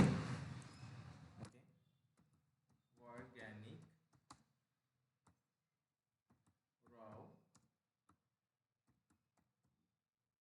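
Keys tap on a computer keyboard as text is typed for a product label design. The keystrokes are faint, sparse and evenly spaced, and someone speaks in between them.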